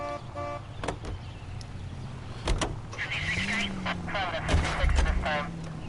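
In the video game L.A. Noire, a car horn blares in short tonal honks at the start, followed by engine noise, a siren-like wail and bursts of game sound, with voices talking over it.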